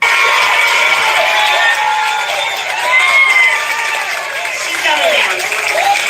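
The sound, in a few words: crowd cheering at a political rally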